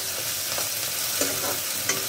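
Sliced onion with a paste of ginger, garlic and green chili fries in oil for a potato and egg dum, giving a steady loud sizzle with a few soft stirring scrapes.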